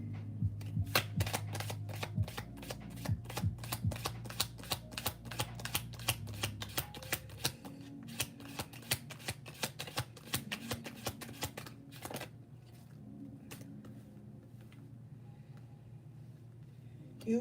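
Tarot cards are shuffled repeatedly at close range, a long run of crisp riffling snaps and slaps in rapid, irregular rhythm with a low background hum, then quieter handling toward the end.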